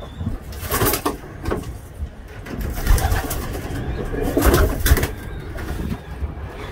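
Racing pigeons, newly arrived cocks, coo steadily inside a loft, with repeated soft throaty calls overlapping at close range and continuing throughout without a break.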